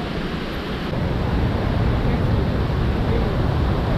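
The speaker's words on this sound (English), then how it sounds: "The waterfall is here." The constant rushing roar of a waterfall at Mt. Wynne, St. Vincent, loud and unbroken, growing slightly fuller after the first second.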